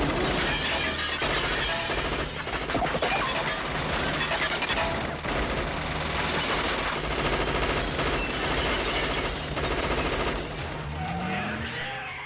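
Dense, loud gunfire and shattering impacts from an action film scene, a nonstop barrage of rapid shots and breaking debris over a thick soundtrack.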